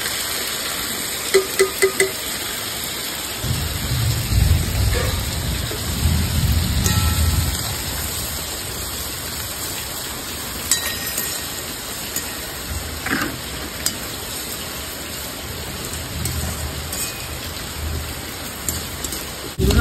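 Heavy rain pours steadily outside a home kitchen, a dense wash of hiss with soft low rumbles and occasional sharper drips, while hot oil waits for fish to fry; no voices.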